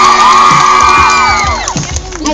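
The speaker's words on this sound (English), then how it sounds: "Can you guys give her a round of applause?" An audience whoops and cheers loudly for actresses Chelsea Kane and Nicole Anderson as they appear on stage, with high shouted voices rising and falling over about two seconds of continuous crowd noise.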